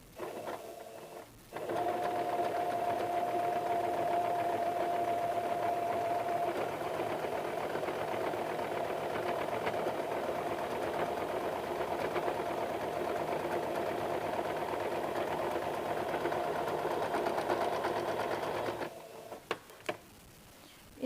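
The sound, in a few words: sewing machine double-stitching a blouse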